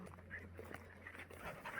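Hunting dogs on a pig hunt pant quickly and breathily at close range in a short burst, with faint outdoor noise behind.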